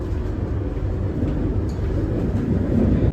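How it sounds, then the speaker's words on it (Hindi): Delhi Airport Express metro train running underground after leaving New Delhi station, a steady close rumble and hum of the moving carriage with no talking. "न्यू दिल्ली के रेलवे स्टेशन से निकल गई है मेट्रो।"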